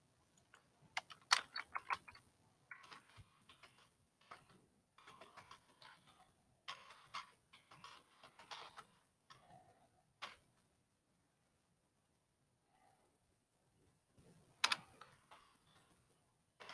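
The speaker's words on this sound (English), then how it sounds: "I'll type it in chat." Typing on a computer keyboard during an online calculus lesson: faint, close clusters of quick key clicks come in irregular bursts with pauses between, fading to near silence before a final few taps.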